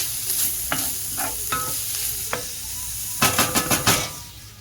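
Onions, sauerkraut and garlic sizzle in a pan for a Reuben, a steady frying hiss broken by scattered pops and a burst of louder utensil scrapes near the end.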